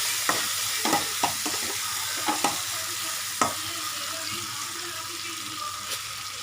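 Onions and tomatoes frying for mor kulambu, a steady close sizzle under repeated spoon scrapes and taps against the pan, the stirring strokes clustered early and thinning out later.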